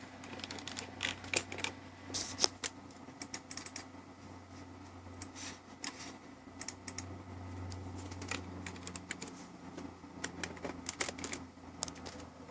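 Quick, irregular clatter of computer keyboard keys as a shortcut is typed during a flight simulator session, clicks close and fairly light over a low steady hum, with no talking.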